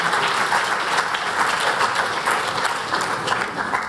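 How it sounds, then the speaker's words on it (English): Audience at a European Youth Award ceremony gives sustained, dense applause throughout, a steady wash of many hands clapping with no talking over it. "an applause for all these people"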